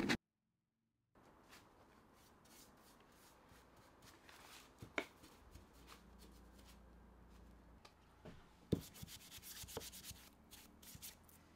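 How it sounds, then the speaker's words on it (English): Sandpaper rubs back and forth over a small wooden dowel for a toilet roll holder, a soft, scratchy rasp in uneven strokes after a brief silent start, with a few sharper knocks and louder scrubbing near the end. "Just going to give this dowel a quick sand down"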